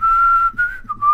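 A single person whistles one sustained, slightly wavering note with two brief breaks, close and clear, with nothing else audible.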